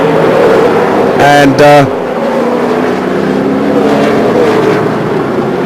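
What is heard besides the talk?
Speedcar stock cars racing on track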